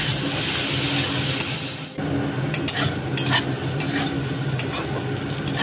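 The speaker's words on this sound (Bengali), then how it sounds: "এবার বেগুন ভেজে নেব" Eggplant fries in hot oil seasoned with salt and turmeric, a close, steady sizzle broken by a sudden burst of spattering and repeated scraping stirs.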